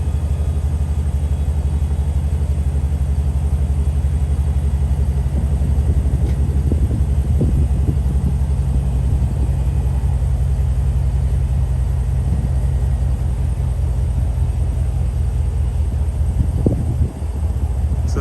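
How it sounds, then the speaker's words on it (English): A lifted RAM 1500 Limited pickup with a 6-inch Ready-lift and 24x14 wheels runs nearby with its engine idling, a steady low rumble while the air suspension lowers, with only a few faint knocks. "let's see if it does the lowering now that I started the truck"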